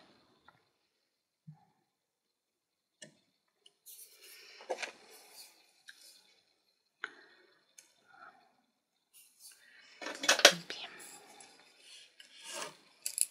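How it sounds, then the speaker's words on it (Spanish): Scissors snip and rasp through paper while a pencil drawing is cut out, in scattered short bursts with quiet gaps, growing louder and denser near the end, close and with no talking. "lo voy a dibujar con el lápiz y luego recortaré"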